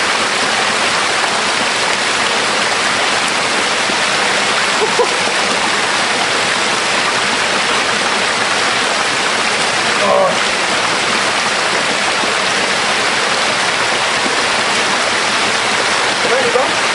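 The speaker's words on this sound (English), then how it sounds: "I've been hanging out under the waterfall." Waterfall at Blauthaler pours down in a steady, loud broadband rush that fills the whole stretch, with faint voices and a brief splash partway through.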